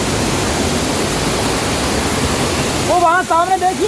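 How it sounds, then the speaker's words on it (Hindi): A large, powerful waterfall in the jungle of the Aravalli hills, falling from high up, roars as a loud, constant rush close by, and a voice briefly joins near the end. "ये तो पानी की आवाज़ है। ये बहते हुए पानी की आवाज़ है।"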